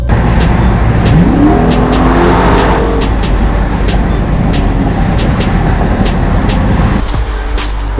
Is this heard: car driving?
yes